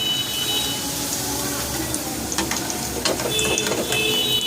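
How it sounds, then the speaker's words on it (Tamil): Spinach puri dough fries in hot oil, giving a steady close sizzle and bubbling throughout with faint clinks on top. "இப்போ ரெடி பண்ணி வச்சுருக்கிற அந்த பூரி மாவை நம்ம எண்ணெயில் போடணும்"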